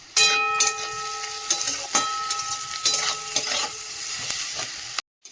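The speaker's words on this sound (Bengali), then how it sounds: "দিয়ে এবারে সবজিটা একটু হালকা করে ভেজে নিই।" Vegetables frying in a pan with salt, a soft sizzle under repeated scraping and stirring of a utensil against the pan, with a brief metallic ringing early on and an abrupt cutoff at the end.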